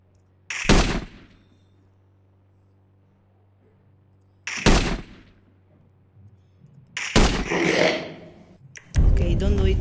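Gunfire from an AK-47 in a zombie shooter video game: three loud, sharp bursts spaced a few seconds apart, with a low steady hum between them and a denser rush of noise at the very end.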